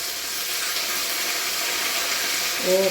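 Washed, still-wet curry leaves and dried red chillies frying in hot oil, giving a loud, steady spitting hiss throughout with no talking.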